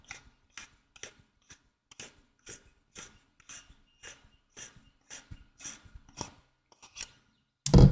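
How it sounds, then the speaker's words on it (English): A lightsaber hilt's threaded handle is twisted loose, giving a run of small regular clicking ratchet ticks, close and fairly quiet, with a louder knock at the very end. "Go ahead and unscrew the handle."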